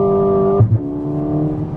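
A 2025 Mercedes-AMG CLA 35 Coupe, 302 horsepower, pulls away on the road, its engine holding a steady tonal drone that drops in pitch as the gear shifts, then settles into a smooth, continuous hum.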